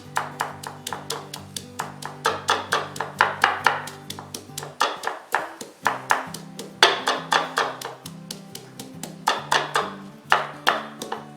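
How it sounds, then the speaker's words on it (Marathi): Dry coconut, coriander and spices pounded into a masala paste, a steady run of sharp, evenly spaced thuds close by, pausing briefly before resuming, with a faint ringing tone beneath. "आणि सुकं खोबरं घालणार आहोत हे सगळं सावकाश कुटून घ्यायचं आहे आपल्याला"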